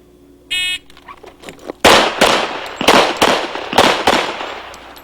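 Pistol shots fired in an IDPA shooting stage: a brief beep, then about six sharp, loud cracks in a quick irregular string, close by with some echo.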